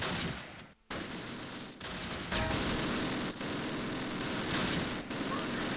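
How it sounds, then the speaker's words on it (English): MG-42 machine gun fire in the WWII strategy game Close Combat, with dense, continuous battle noise and a few short breaks. It stays loud throughout and blends with other gunfire. "MG-42s are returning fire."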